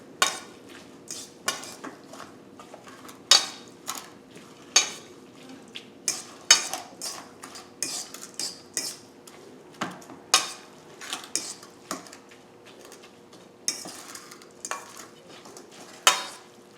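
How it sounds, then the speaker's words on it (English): Pickled eggplant is mixed with olive oil in a bowl, a utensil scraping and clinking in a steady series of sharp, close taps and stirs with no talking. "we're going to mix it up now. Let's add some olive oil."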